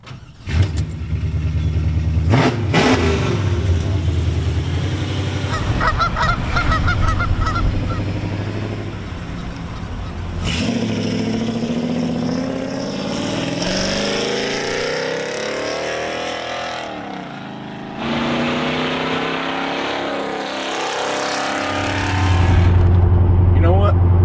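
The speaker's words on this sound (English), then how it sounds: "It's time to fire it up and go for a drive." A 1996 Chevrolet Impala SS show car starting and driving off, with a cranking start, deep engine rumble and revving that rises and falls as it pulls away, loud and near, with horn-like honks and occasional talk.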